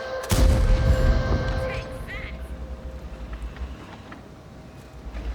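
A tank main gun booms once in a World of Tanks battle, loud and close, and its rumble fades under someone talking.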